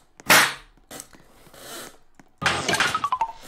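A gun fires in the Roblox game Slap Battles, a sharp, loud crack near the start, followed by scattered clicks and a brighter burst of rattling, ringing impacts toward the end.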